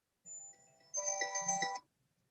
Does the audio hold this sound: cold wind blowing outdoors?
no